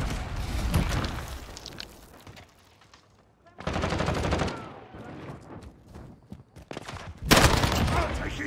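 Bursts of automatic gunfire in Modern Warfare multiplayer, loud rattling volleys in three separate bursts with quieter gaps between, mixed with game voices and battlefield noise.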